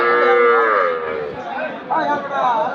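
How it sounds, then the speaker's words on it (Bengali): A young crossbred calf at a village cattle market lets out a long, loud moo, followed by a second shorter call, close by with faint market murmur behind. "বাচ্চা গরু, দুইটা ক্রস।"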